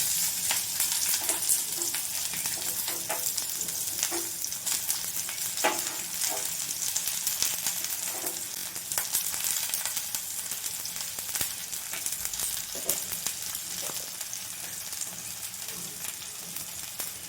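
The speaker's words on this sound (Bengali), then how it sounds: "তেল গরম হয়ে গেছে, পেঁয়াজগুলো দিয়ে দেবো।" Onions sizzle loudly in hot oil, a continuous crackling hiss broken by repeated scrapes and clacks of a spatula stirring the pan.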